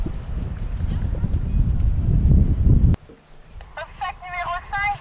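A horse gallops over a wooden palisade obstacle at the edge of a small wood on a cross-country course. Thudding hoofbeats under gusty wind noise fill the first three seconds, then fade as a voice talks.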